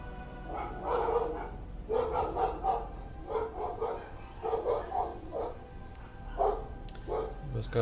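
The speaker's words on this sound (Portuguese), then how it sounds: "Cachorro dando um oi pra vocês." A dog barks repeatedly in short bursts amid the background audio of a Total War: Warhammer 2 battle game, the barks moderately loud and spaced across several seconds.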